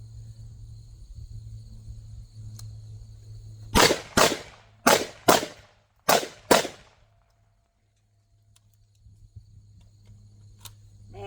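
Six sharp gunshots fired at three targets during ZERT shooting training, loud close reports in two quick groups of three, with a low steady hum before and after.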